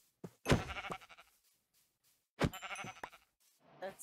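Two short sheep bleats from the video game Minecraft, quavering and nasal, separated by a pause; quiet overall, with no talking.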